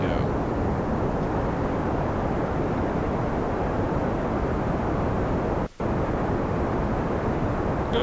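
Throttled rocket engines in the game Kerbal Space Program make a continuous loud, low rumbling roar that holds steady throughout, with one brief cut-out of sound partway through.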